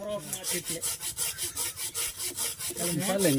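A hand saw rasps through a mango branch in quick, regular back-and-forth strokes, close by, with a voice speaking briefly at the start and end.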